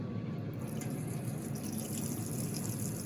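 Acetone being poured through a funnel, a steady, continuous liquid pour with a soft splashing trickle that stays even and fairly close throughout, with no talking.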